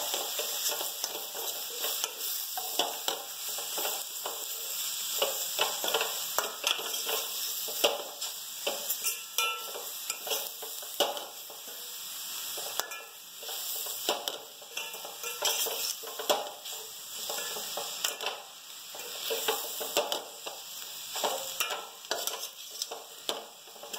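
Leafy greens curry of sweet chira leaves stirred and fried in a pan, a steady soft sizzle with repeated scraping strokes of a utensil, close and continuous, no voices.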